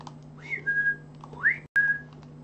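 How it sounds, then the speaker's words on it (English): Two short, clear electronic whistles from a chess computer sound in quick succession, each a rising then steady tone, over a low steady hum, with a sharp click between them. "It's whistling to me, that computer"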